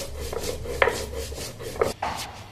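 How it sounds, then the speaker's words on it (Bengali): Small pieces of cut taro are ground by hand on a stone grinding slab, making rhythmic rasping back-and-forth strokes with sharper scraping accents, close and clear. "কচুটা বাটবো।"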